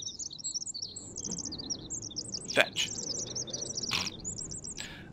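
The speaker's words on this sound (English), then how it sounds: "There are just birds everywhere!" Birds chirping in the forest of the survival video game The Forest: rapid high tweets and trills continue throughout over a soft ambient bed, with a brief spoken word and a few clicks in between.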